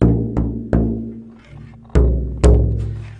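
A small bowl rings out with a bright, higher-pitched tone, struck sharply with a mallet five times at uneven intervals, each strike decaying into a lingering hum.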